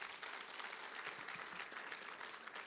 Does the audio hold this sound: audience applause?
yes